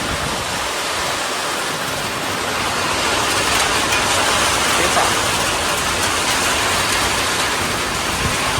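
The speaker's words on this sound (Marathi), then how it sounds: "एवढा धू पाऊस पडलेला आहे" Heavy May rain falls in a downpour, a thick continuous hiss of drops on surfaces that swells slightly midway, steady and close with no talking.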